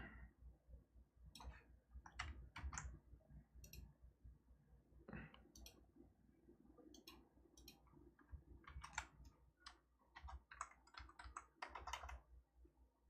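Fingers type on a computer keyboard in uneven bursts of sharp clicking keystrokes, close and fairly quiet, with short pauses between runs and no talking.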